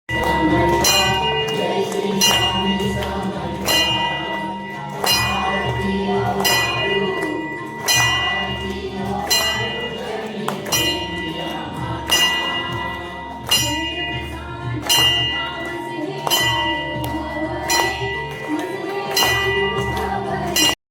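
Temple bells ring repeatedly in a steady clanging rhythm during aarti at a Swami Samarth temple, layered over dense music and chanting that continue throughout.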